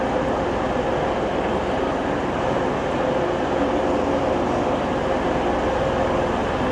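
Steady rumbling rail noise with a constant mechanical hum as a Hull-bound train arrives at a station platform, idling or rolling slowly nearby, with no talk over it.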